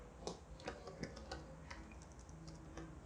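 Computer keyboard keys pressed a few times at a desk, quiet clicks spaced apart with no talk.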